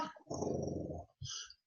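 A German Shepherd gives a low, rumbling growl of about a second, then a short second grumble, heard close and alone.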